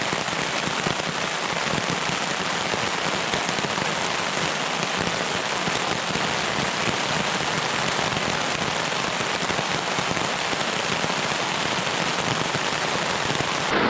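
Steady heavy rain patters densely on surfaces while backpacking at Table Rock State Park during a severe weather alert, a continuous loud hiss of drops with no voices.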